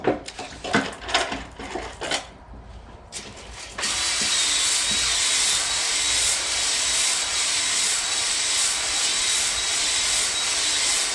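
A power drill spins a hone inside the cylinder walls of a 350 small-block Chevy engine block, a few knocks and clanks first, then a loud, continuous, close whirring grind that holds steady to the end.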